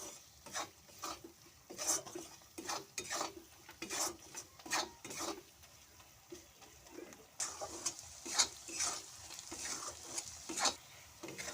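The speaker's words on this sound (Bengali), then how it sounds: "মশলাটা আমার কষানো হয়ে গেছে, মশলা থেকে তেল ছেড়ে দিয়েছে" Spice masala of coriander, cumin and turmeric powder with salt is stirred and fried in oil in a pan, with faint, repeated scraping strokes over a soft sizzle and no talk.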